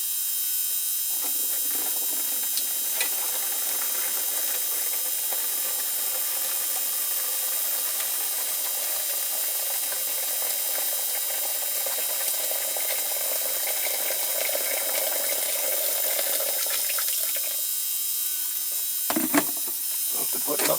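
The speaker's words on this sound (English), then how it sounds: "Okay, here it goes, in with the boiling water." Boiling water is poured into a caustic soda bath used to strip a Dinky Toys Bedford TK Castrol van, making a steady hissing, rushing wash of sound that runs continuously for about twenty seconds before a brief clatter near the end.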